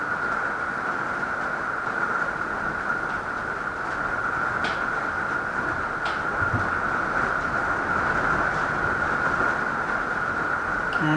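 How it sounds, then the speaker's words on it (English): Steady, dense rain hisses throughout, with a constant band of noise and a couple of faint clicks, no voices present. "Listen to the rain"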